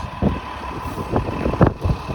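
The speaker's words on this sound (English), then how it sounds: "There's a 2017 Nova LFS bus." A 2017 Nova LFS city bus passes along a busy street in Thorncliffe, East York. A steady, fairly close diesel engine rumble rises and falls against road traffic noise.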